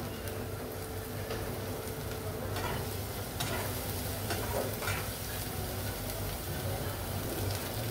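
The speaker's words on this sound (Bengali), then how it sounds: "আমি এখন টমেটো কুচি করে রেখেছিলাম, টমেটো দিয়ে দেব" Chopped tomatoes frying in a pan for chicken korma, a steady close sizzle with scraping stirring sounds throughout, no talking.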